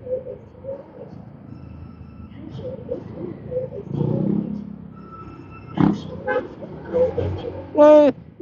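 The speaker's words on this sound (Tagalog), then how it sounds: "Binubusinahan niya yung nakabisikleta." A car horn honks sharply near the end at a cyclist in a bike lane, cutting through steady road traffic noise and other vehicle sounds.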